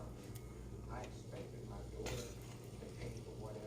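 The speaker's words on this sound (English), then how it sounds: "we're going to start out by browning some sofrito" Sofrito browning in a frying pan gives a steady, close sizzle with occasional clinks and scrapes of a utensil against the pan, while a voice murmurs faintly underneath.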